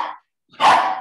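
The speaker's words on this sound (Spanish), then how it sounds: "Se le salió el perro" A dog barks twice nearby, a short yelp followed by a louder, fuller bark, heard alone.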